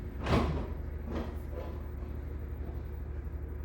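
A tractor with seizing brakes bumps against a house, heard from indoors as a muffled thud followed by a couple of fainter knocks and rumbling, then a low steady background.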